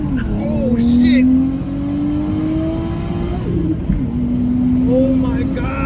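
A turbocharged Toyota Chaser engine pulls hard from inside the car, its rising drone climbing steadily, dipping briefly at a shift, then building again, with an excited voice over it.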